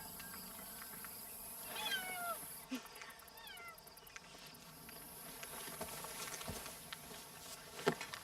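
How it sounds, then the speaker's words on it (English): A cat meows a few times, fairly faint and somewhat distant, over a low steady background hum. "Is that a cat in there?"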